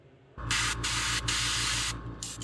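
Airbrush spraying Autoborn paint onto an Arbuckle craw fishing lure, a steady loud hiss in bursts with brief pauses over a low rhythmic compressor hum.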